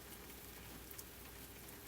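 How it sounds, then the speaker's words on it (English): Steady rain drumming on a porch roof and pattering on leaves outside a cabin, an even, continuous broadband hiss with no breaks, close and moderately soft throughout. "You can hear the rain picking up now, a steady, even sound against the porch roof above you, drumming gently on the leaves"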